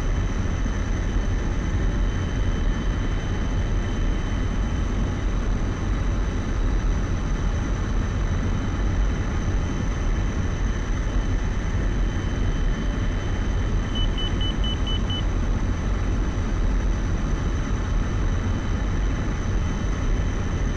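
A MiG-21 fighter jet engine runs at full power for a go-around, a steady, dense roar that holds unchanged throughout, with a brief faint beeping tone partway through.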